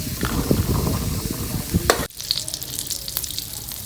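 Khoya roasting in ghee in a pan for khoya pinni, a steady close sizzle and frying hiss with stirring scrapes throughout, a brief sharp clatter near the middle, no talk.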